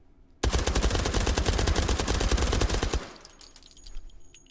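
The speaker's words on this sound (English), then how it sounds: "You could see that the UMP45 finished later. That slower fire rate." A UMP45 submachine gun fires a steady, rapid full-auto burst in a VR game, loud and close for about two and a half seconds, then cuts off into quiet room tone with faint handling clicks.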